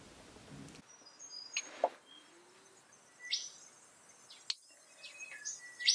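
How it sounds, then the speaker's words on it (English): Dawn chorus of birds in Australia, with scattered high chirps and short calls at varying distances over a faint steady background, fairly quiet with no talk. "listen to the dawn chorus in that country"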